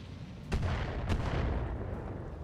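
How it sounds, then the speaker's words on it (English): Mortar fire from a mortar carrier in the BattleTech video game: two booming blasts land about half a second apart over a dense, continuous rumble of battle noise. "Oh, that must be a mortar carrier."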